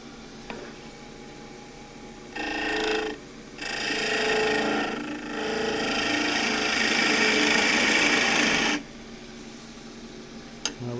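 Lathe tool cutting an old wooden table leg, turning it down toward a ferrule, with a broadband hissing, scraping cut that comes in bursts, briefly at first and then sustained for several seconds before stopping, over the steady hum of the motor.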